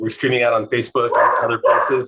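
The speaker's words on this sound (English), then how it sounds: "Sorry for the dogs." Dogs bark in the background of a livestreamed virtual winter art event while a person keeps talking over them; the barking stays mostly buried under the voice.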